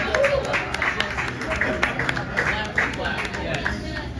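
A comedy show audience applauds steadily with dense, close clapping throughout, with scattered voices mixed into the applause.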